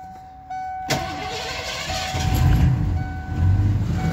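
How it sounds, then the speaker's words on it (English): A 1985 Ford with an EEC-IV fuel-injected engine cranks and catches with throttle applied, a sharp starter jolt giving way to a loud, rising, rough idle that swells twice. "Engine is now running."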